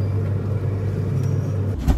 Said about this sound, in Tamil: இவ்வளோ நேரம் இல்லாத டிராஃபிக் இப்போ பார்த்தீங்கன்னா பயங்கர டிராஃபிக் ஆகிடுச்சு